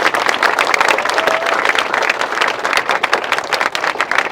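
An audience gives loud, sustained applause for students selected in NEET 2024, a dense wash of many hands clapping close and steady throughout.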